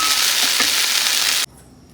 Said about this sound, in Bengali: এখানে ভেন্ডি ভাজা করে নিচ্ছি, আর গোটা গোটা লঙ্কাই দিয়েছি